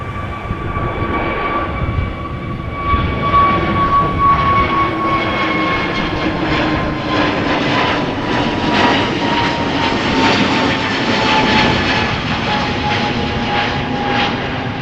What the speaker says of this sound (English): United Airlines flight 21 going to Houston, Texas, 777-200